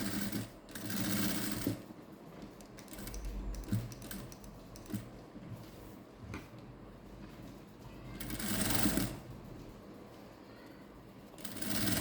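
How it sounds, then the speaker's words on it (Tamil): Sewing machine stitching fabric with green thread in bursts of rapid mechanical whirring, loud runs separated by quieter pauses and handling noises, close up with no talk. "நம்ம க்ரீன் கலர் நூல் தான் போட்டு தைச்சோம்"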